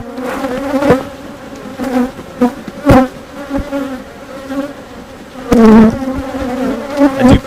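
Honeybees buzz steadily around an open beehive during a routine hive inspection, a close, continuous drone that swells in several louder bursts as bees fly near.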